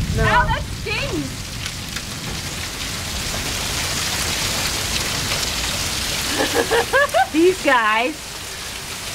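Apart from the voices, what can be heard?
hail storm coming down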